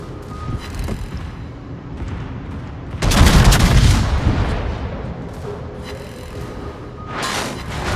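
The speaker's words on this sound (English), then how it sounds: "we're going to lose Z 44 because we're being shot at" Naval gunfire and artillery shelling in World of Warships during a brawl, a low steady rumble of distant shots that swells into one big loud boom near the middle, then fades back to scattered firing.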